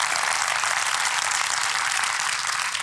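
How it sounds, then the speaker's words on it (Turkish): Audience applause fills an award night for a short film competition, a steady, dense wash of clapping that carries on at even loudness throughout with no talk over it. "Şimdi sizlerden ekibimize kocaman bir alkış rica ediyorum efendim."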